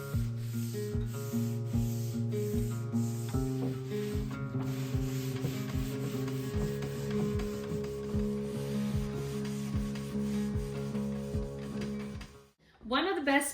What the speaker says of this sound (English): I like to give the surface a quick scuff sand using a 220 grit